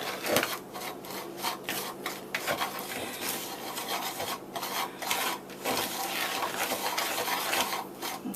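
Hot fudge cake batter for a slow cooker is stirred briskly in a bowl, giving a continuous scraping, rasping rhythm of the spoon against the sides, close and fairly quiet, with no speech.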